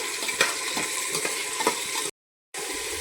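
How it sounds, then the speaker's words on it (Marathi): A spoon scrapes and stirs chickpeas and potatoes in a sizzling pan with rhythmic clattering strokes, briefly cut to silence before the stirring resumes. "आता हे ना हलवून घेते"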